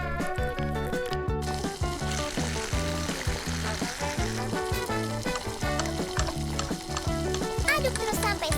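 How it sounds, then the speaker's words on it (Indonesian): Sauce being stirred in a hot pan as it heats to a boil for crispy chicken with green chili cheese sauce, giving a loud, dense sizzle and bubbling broken by a rhythmic pattern of scraping strokes, close-up, with no voices. "Aduk terus sampai saus mendidih."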